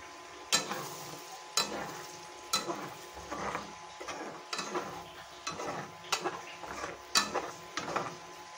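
An egg fries in oil in a pan with a soft sizzle, broken by about eight sharp, evenly spaced scraping or tapping knocks of a utensil against the pan, close and fairly quiet without talk.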